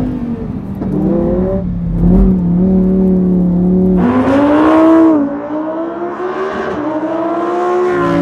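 A Lamborghini Huracan Evo's engine drives hard while drifting, climbing and dropping through loud revs with strong tonal pitch sweeps and a sharp jump in pitch midway, with no voices.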